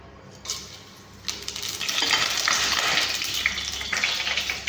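Whole spices — cinnamon, cloves and cardamom — frying in hot oil inside a pressure cooker for chicken gravy, a steady close sizzle with brief clinks and stirring, growing louder after the first second.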